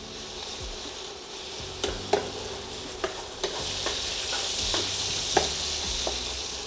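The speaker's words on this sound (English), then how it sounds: "we're gonna cook these sausages until they're," Sausages frying in a pan, a steady close sizzle broken by several distinct clicks and scrapes as they are turned and moved.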